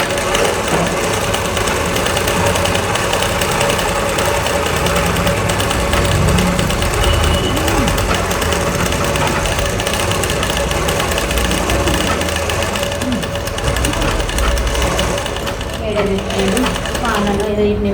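A sewing machine runs continuously, stitching a second seam on garment fabric during a tailoring lesson, with a steady close mechanical whir and motor hum throughout.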